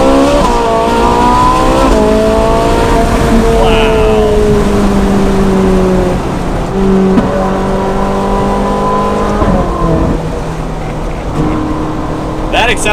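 A Ferrari 458 Spider's engine revs hard and loud through rising gear pulls, the pitch climbing steadily, dropping at each shift and climbing again, close and sustained throughout.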